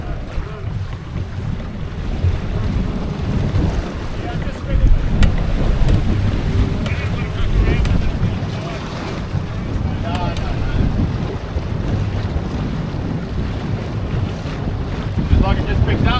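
A sailboat on a remote island expedition runs before strong wind, with constant loud wind buffeting the microphone, rushing water and waves along the hull, and people talking briefly.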